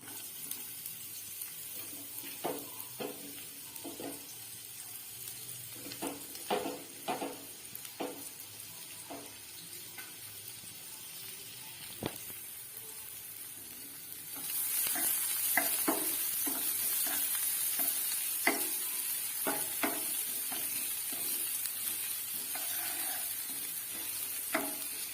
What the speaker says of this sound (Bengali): এবারে আমি তেলে দিয়ে দেব কুচি করে রাখা পেঁয়াজ।